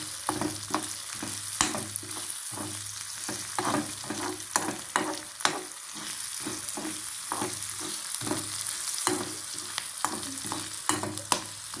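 Ingredients are stirred in a frying pan with salt added, a constant sizzle underlaid by rhythmic, repeated spoon scrapes and knocks against the pan, close and loud, with no one speaking.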